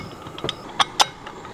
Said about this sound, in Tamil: குக்கரை மூடுங்க.